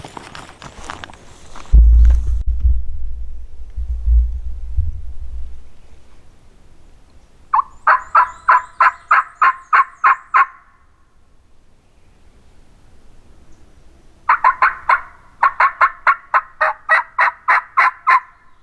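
Wild turkeys gobbling on an opening-day morning in Arkansas, two rapid rattling gobbles some distance away, separated by quiet, after low rumbling handling noise at the start.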